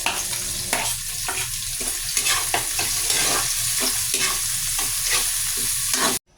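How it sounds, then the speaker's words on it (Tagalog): Ginger sautéing in a pan for salmon sinigang gives a steady, close sizzle with repeated stirring scrapes and taps throughout, cutting off abruptly near the end. "Tapos naggisa lang ako ng luya, hintayin lang muna natin na lumabas yung aroma niya"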